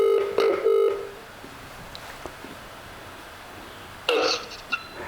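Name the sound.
telephone dialing to call a property seller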